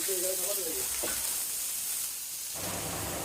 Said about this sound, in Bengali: এই যে লাইভ আমাদের চোখের সামনে মাছগুলো ভাইজে দিতেছে আমাদের জন্য